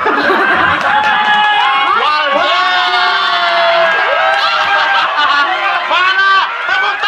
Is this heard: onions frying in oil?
no